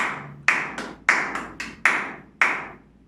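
A handful of crisp hand claps in an uneven rhythm, some single and some doubled, close by with short decays and no talking.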